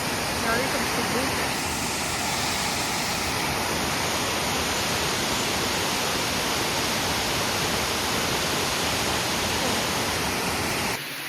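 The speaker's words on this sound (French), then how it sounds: "Je sais pas si vous m'entendez, mais il y a un débit d'eau qui est incroyable." A powerful waterfall roars with heavy, steady rushing water, a dense broadband wash that stays loud and constant from start to end with no break.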